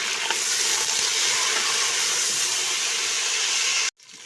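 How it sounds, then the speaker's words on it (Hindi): Mutton sizzles loudly in a pot with onions and whole spices for korma, giving a steady, dense frying hiss that breaks off abruptly near the end. "ये अब हम इसकी भून रहे हैं अपने प्याज़ों में अपने गोश्त को"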